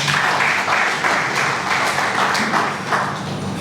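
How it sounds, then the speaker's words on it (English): Audience applause at a biochemistry educational workshop, a dense steady wash of many hands clapping from start to finish, fairly loud and even, with no voices over it. "Another round of applause."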